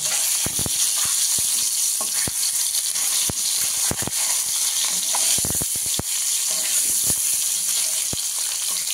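Halved duck eggs frying in hot oil in a pan, a loud, steady sizzle and hiss throughout with scattered sharp pops and spatters, close up and without talk.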